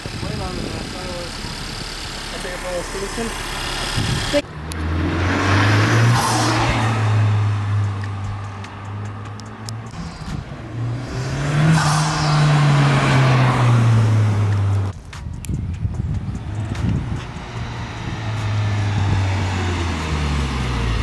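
A 2017 Honda Civic Type R engine with an aftermarket PRL intake revs hard twice, rising and falling in a deep throaty roar, close by, with people talking and reacting between the pulls.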